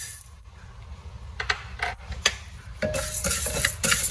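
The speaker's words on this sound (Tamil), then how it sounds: "இந்த சின்ன குக்கர் நல்ல சூடானப்புறம் நம்ம எடுத்து வச்சுருக்க சிறுபருப்பை சேர்த்துடலாம்." Moong dal tipped into a hot small pressure cooker and roasted for pongal, with metallic spoon scrapes and clinks followed by a rising dry sizzle, close and alone.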